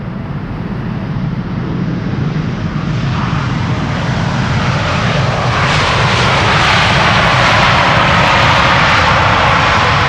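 A Boeing 787 Dreamliner on Saudi flight 215 from Jeddah lands with reverse thrust, a loud continuous jet roar that swells and brightens toward the end as the reversers deploy.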